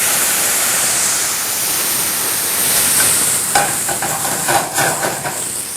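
Cognac poured over sweated shallots in a hot steak pan, a loud continuous sizzle and hiss that flares with crackling spits and pops toward the end, close up with no talk.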